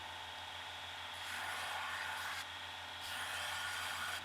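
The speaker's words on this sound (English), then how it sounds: "start grinding in and chasing that line" A knife blade is ground to its bevel on a belt grinder for a large forged barbecue knife, a steady close abrasive rasping hiss with slight swells as pressure changes.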